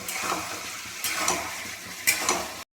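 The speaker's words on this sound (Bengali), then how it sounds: "আর এখানে হচ্ছে শোল মাছের ঝাল ফুটছে" Snakehead fish curry in a hot pan gives a dense, close sizzle and bubbling hiss with occasional stirring scrapes, continuous throughout before stopping suddenly.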